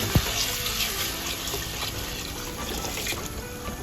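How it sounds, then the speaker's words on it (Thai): Mung beans are rinsed in water for sprouting in a plastic bucket, with a steady close wash of running, splashing water that continues throughout after a brief knock at the start. "ล้างน้ำให้สะอาด"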